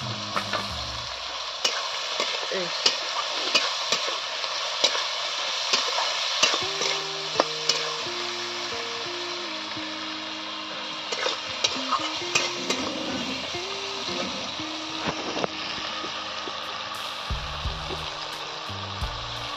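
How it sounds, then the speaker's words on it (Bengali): Small crabs with green chillies fry in a pan of hot oil, a steady sizzle running throughout while a utensil stirs and scrapes at intervals; no one speaks, and faint background hum sits underneath. "কাঁকড়াটা এতে দিয়ে দিচ্ছি।"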